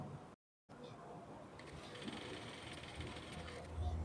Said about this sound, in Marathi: जो अर्धा इंचचा डिस्टन्स आहे त्या डिस्टन्सवर आपल्याला इथे शिलाई करायची आहे